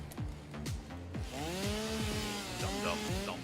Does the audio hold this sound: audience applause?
no